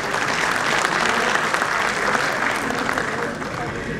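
Loud, sustained applause from an audience at an Urdu literary gathering in Indore, welcoming Karuna Mishra to the microphone; dense steady clapping fills the whole stretch without a break.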